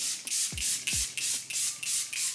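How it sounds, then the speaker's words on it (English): A vegan collagen spray-on face serum sprays a fine mist in about six quick, evenly spaced pumps, each a short soft hiss, close and quiet with faint handling clicks. "It's a vegan collagen spray on serum."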